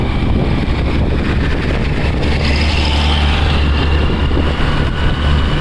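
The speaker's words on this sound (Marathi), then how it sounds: "आपल्या समोरून भारत सुंदरची गाडी निघलेली" A vehicle, the car of Bharat Sundar, pulls away nearby, its low engine drone steady and continuous over strong wind and road rumble, with no voices heard.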